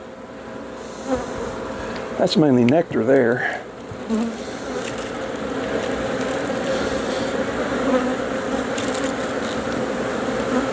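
Honeybees buzz steadily around an open horizontal hive during an inspection, a dense continuous drone from many bees nearby, with a brief spoken remark early on.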